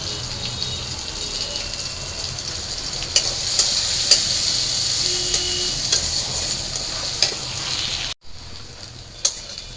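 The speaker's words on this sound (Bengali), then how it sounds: "এই যে আমার পেঁয়াজ কাঁচামরিচটা ভাজা ভাজা হয়েছে" Onion and green chili fry in a pan with a continuous close sizzle. A few sharp clinks of stirring land on top, and the level drops briefly near the end.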